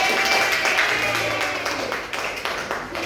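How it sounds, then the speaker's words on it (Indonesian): Classmates in a sixth-grade science microteaching lesson clap for a student, a dense burst of applause with scattered taps that fades slightly toward the end, mixed with background voices. "Iya, tepuk tangan dulu dong buat dia"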